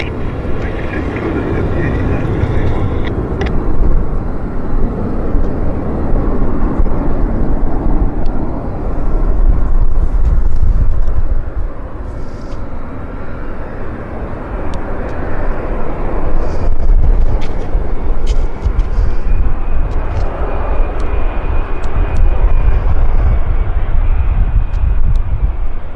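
An airliner taxis at Vancouver Airport, its engines a loud, steady low roar that swells and eases over the stretch, with radio voices and chatter breaking in on top.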